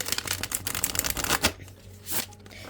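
A stiff new Terra Arcanae tarot deck being shuffled close up, with a steady run of papery card riffles and flutters, a short pause, then another burst of shuffling, with no talk.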